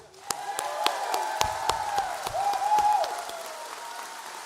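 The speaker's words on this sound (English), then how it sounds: "Let's give another round of applause." Applause breaks out among members at a union rally kickoff, a moderate round of clapping with a few whoops and sharp claps over a steady low crowd bed, fading slightly toward the end.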